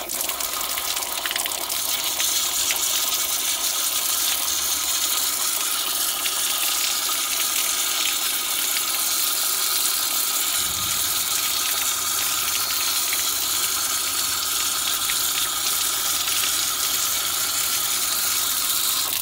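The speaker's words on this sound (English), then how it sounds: "So first, I'll just run it under some water." Tap water pours steadily over an Olight Odin flashlight held beneath the stream, a constant loud hissing splash that continues unbroken for about twenty seconds, with no voices.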